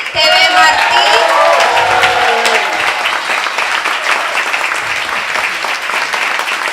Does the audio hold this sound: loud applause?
yes